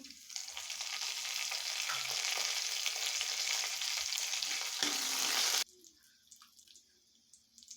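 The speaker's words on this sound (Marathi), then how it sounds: "यानंतर याच्यामध्ये कढीपत्ता घालायचा" Curry leaves dropped into hot oil sizzle loudly and steadily for about five seconds, then the hiss cuts off abruptly, leaving faint clicks and light kitchen sounds with no speech.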